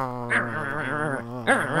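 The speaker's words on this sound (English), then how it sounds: "two dogs argue over newspaper" Two dogs fight over a newspaper, giving a close, continuous tangle of tonal growls and whining yelps that rise and fall, with a sharper yelp near the end.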